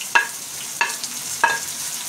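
Finely chopped onion sizzles with cumin seeds in a hot pan, and a spoon stirs it in three quick, distinct scrapes over a steady close frying hiss.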